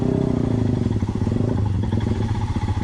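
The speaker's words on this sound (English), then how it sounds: "But this bike is so capable for any tarmac." A motorcycle engine runs steadily while riding along a tarmac road, a loud close rumble with a pulsing low throb and wind noise throughout.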